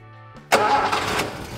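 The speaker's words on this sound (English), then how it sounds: "Engine ticks over beautifully." A Holden FB/EK car engine is cranked by the starter for a moment, then catches with a sudden loud burst and settles into a steady, close idle.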